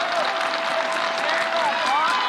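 Alabama home crowd at a women's college softball game cheering and roaring in a steady, loud, dense wash of voices with some whistles and clapping, sustained throughout.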